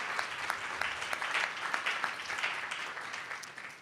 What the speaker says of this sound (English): big round of applause to them as well